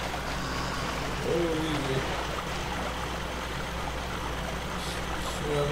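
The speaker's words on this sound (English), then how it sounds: "This is the main river section with the current flowing." A river current flows in the Spintires flood map as a Ram 2500 mega truck crosses deep water, a constant watery rush under a truck engine hum, with someone speaking briefly.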